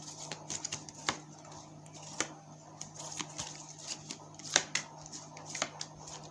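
Tarot cards being shuffled and drawn during a card reading, giving a run of soft papery flicks and riffles with a few sharper snaps, close and fairly quiet, with no talking.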